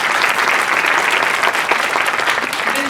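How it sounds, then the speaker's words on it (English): An audience applauds at an inspirational talk, a dense, even wash of many hands clapping at steady volume throughout the short stretch. "So I don't mind an applause actually at this point."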